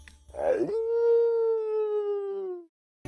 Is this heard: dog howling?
yes